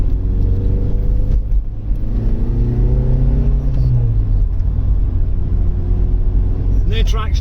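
Vauxhall Vectra 2.2 with winter tyres driving on snow, a steady close engine drone and road rumble throughout, with someone speaking over it.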